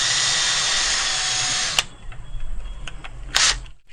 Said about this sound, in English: Pre-drill is very important that you don't split the wood